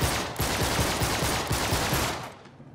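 Rapid automatic gunfire in Uncharted: Drake's Deception, a dense, loud, continuous burst of rattling shots lasting over two seconds before cutting off.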